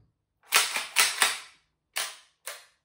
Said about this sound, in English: you can shoot the Saiga without BBs. And the gun